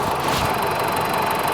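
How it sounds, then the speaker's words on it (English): A twenty-year-old car engine idles steadily nearby in a continuous, even rumble with a faint mechanical knock, no voices over it. "Engine seems to idle fine."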